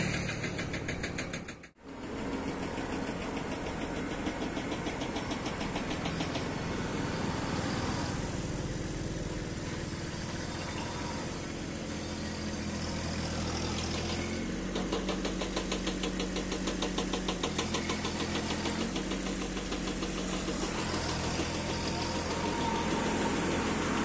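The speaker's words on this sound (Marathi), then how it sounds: "ट्रॅक्टरने अशी फवारणी मारला येते" A tractor-driven sprayer works a grape vineyard, its mid-pitched engine running loud and steady with a rhythmic knocking throb and the hiss of spray throughout. There is a brief dip early on.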